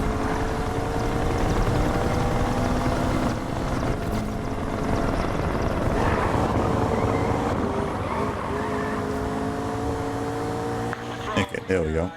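A continuous rotor drone from a pursuing police helicopter in Need for Speed Rivals, loud and steady, with voices over it and a brief burst of clatter near the end.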